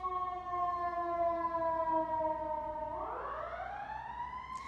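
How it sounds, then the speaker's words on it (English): An emergency siren blares loud and steady with a tonal wail, then sweeps upward in pitch near the end, with no voices over it. "that siren is unnecessary"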